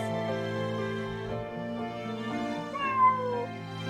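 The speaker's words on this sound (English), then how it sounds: "Look, a cat." A cat lets out a long, drawn-out meow, close and fairly clear over a steady tonal background.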